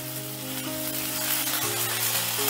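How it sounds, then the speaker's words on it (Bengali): Ginger sizzles in hot oil on low gas heat while being stirred in a pan for Bengali lau posto, a dense continuous close crackle with a faint steady hum underneath and no talking. "গ্যাসের আঁচটা লোতে রেখে আমি আদাটা একটু নাড়াচাড়া করে নিচ্ছি"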